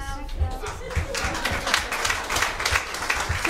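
Audience clapping at a village pantomime of Return to Treasure Island, a broad, steady patter of hands mixed with crowd chatter and laughter, voices audible throughout.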